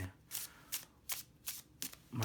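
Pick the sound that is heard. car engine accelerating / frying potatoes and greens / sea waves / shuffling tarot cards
shuffling tarot cards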